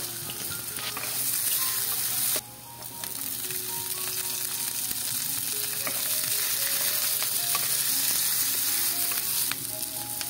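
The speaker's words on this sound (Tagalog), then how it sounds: "Unahin ho nating igisa ang luya." Ginger, garlic and onion sautéing in a pan for Filipino goto, giving a loud continuous sizzle with scraping and stirring clatter throughout, close by, with no talking.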